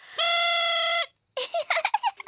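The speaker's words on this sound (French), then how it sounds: "On appelle celui-là une fauvette à trompe." A cartoon trumpet warbler, a fictional creature-instrument, blares one loud, sustained brassy tone for about a second, followed after a short pause by a quick run of chirpy, squawking notes.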